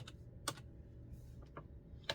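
Sparse keystrokes on a computer keyboard, a few distinct close clicks spaced irregularly over a couple of seconds in a quiet room, with no one speaking.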